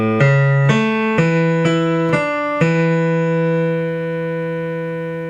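Piano playing a song, a handful of evenly spaced struck notes over a sustained left-hand bass, loud and close, the last chord ringing out and fading.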